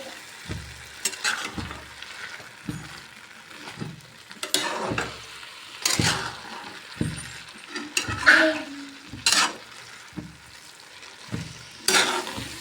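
Gajar halwa, grated carrot cooked with milk, is stirred in a pan on the stove, sending up a steady sizzle. Repeated scraping strokes land about once a second, loud and close, with no talking.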